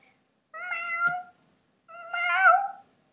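Two drawn-out meows from a big cat, each about a second long with a short pause between, close and clear with nothing else audible.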